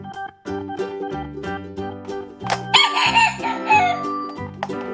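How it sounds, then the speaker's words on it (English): A rooster crows once, loud and drawn out, partway through over a bouncy children's music backing track, with a short clucking lead-in before the crow. "This is a red rooster."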